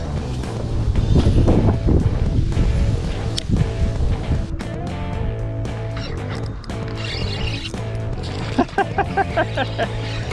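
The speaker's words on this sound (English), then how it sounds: "Whew, that wind is ridiculous." Strong gusty wind buffets the microphone outdoors beside the Salt River during fishing, a loud, steady low rumble with roaring swells, while a person talks over it.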